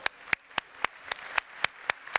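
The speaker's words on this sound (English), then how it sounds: "Let's give him applause." Sparse clapping from a conference audience at a fintech demo, about nine evenly spaced, distinct claps at a steady rhythm, like a few people or one person clapping.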